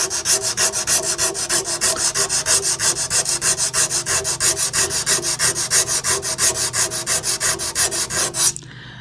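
Sandpaper is worked by hand over the pitted metal of an old air compressor, a loud, close, rhythmic rasping in quick even back-and-forth strokes that runs steadily for about nine seconds and then stops.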